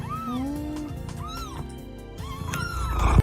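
A cat meows several times in rising, whining calls, close by, with a scuffling rustle building near the end.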